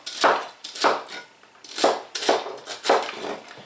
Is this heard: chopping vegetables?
yes